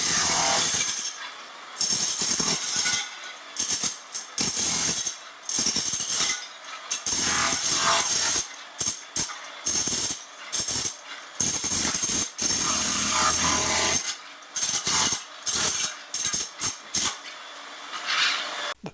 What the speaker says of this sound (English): The demo hammer makes short work of it.